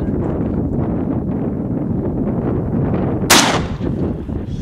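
A Mosin Nagant 91/30 rifle in 7.62x54R fires once at a can outdoors, a single loud, sharp crack near the end over steady wind noise.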